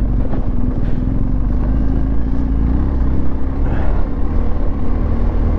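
A motorcycle engine descending a mountain road, a loud, steady low rumble with constant engine drone and rushing wind close to the rider, no talk.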